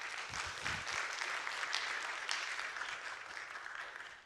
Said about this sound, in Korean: 우리 전사님 나오실 때 박수로 환영하도록 하겠습니다.